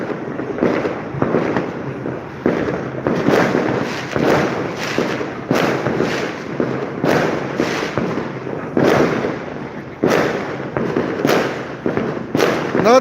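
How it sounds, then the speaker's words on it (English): Fireworks and firecrackers go off along a street at New Year, a loud, dense string of sharp cracks and thumping bursts repeating every second or so across the whole stretch, with no talk. "would have like fireworks all across the street. So it just sounds more like a war zone."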